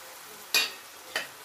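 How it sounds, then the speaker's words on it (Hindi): Chopped tomatoes drop into a pan of ginger, garlic and green chillies frying for a jackfruit curry, giving two short sizzling bursts a half-second apart, close and clear, with no talking. "हम कटे हुए टमाटर डाल देंगे"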